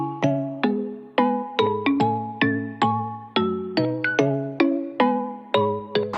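A phone ringtone plays a bright, melodic chime pattern of repeated bell-like notes, clear and close, ringing steadily for several seconds with no voices.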